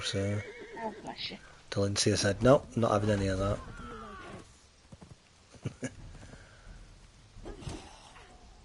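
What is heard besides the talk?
horse neighing in the video game Conan Exiles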